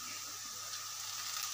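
Ginger garlic paste frying in a pan while cooking dam aloo, a steady soft sizzle that stays faint and even throughout, with no voices over it.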